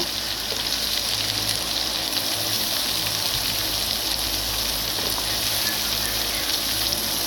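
Potatoes go into a hot pan for a vegetable gravy, with a loud, steady hiss of frying and sizzling that fills the whole stretch with no voices.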